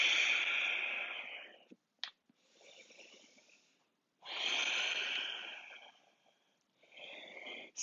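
Deep, slow breathing during a yoga flow, with long airy inhales and exhales close to the mic separated by quiet pauses, one quick sniff-like burst in between.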